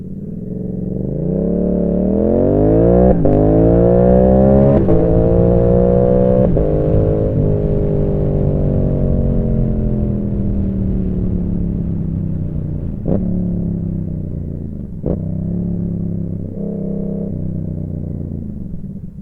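Yamaha R7 motorcycle fitted with a Dano quickshifter accelerating hard, its engine note climbing through several rising sweeps with sharp breaks at each quick upshift, loud and close throughout.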